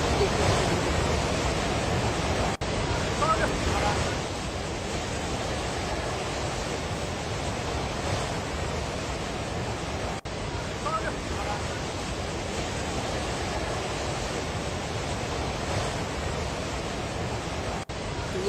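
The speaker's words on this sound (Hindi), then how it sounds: "तो ये पानी की लहरों की आवाज़ आप सुन रहे हैं।" Floodwater rushes down the Bhote Koshi river on the Nepal–Tibet border, a steady, loud broadband roar of churning water that continues unbroken from start to finish.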